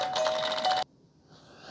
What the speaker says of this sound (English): So now when I press the doorbell, it's going to do